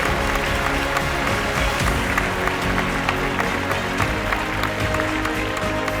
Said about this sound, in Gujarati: તાળીઓ અટકવી ન જોઈએ.